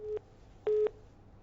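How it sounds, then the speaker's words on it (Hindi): Busy tone of a disconnected phone line on a live TV call-in show, two short electronic beeps, the second longer, with faint background hum between them. "पवन का फोन डिस्कनेक्ट हो गया है।"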